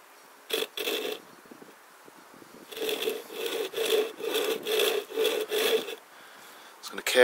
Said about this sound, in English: Just going to carefully saw down.